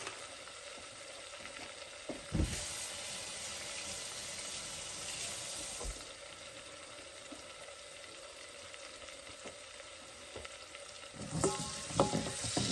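Garlic cooking in a pumpkin soup mixture with bacon and shallots in a pan: a soft, steady sizzle and bubbling with a few stirring scrapes and clinks, quiet and close, with no voices.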